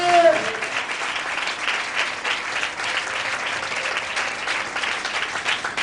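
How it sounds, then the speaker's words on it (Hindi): A church congregation claps loudly and steadily all the way through, a dense, sustained wash of applause that swells slightly at the start and holds, with a brief voice heard at the opening. "जोरदार ताली बजाकर हम परमेश्वर को धन्यवाद करें।"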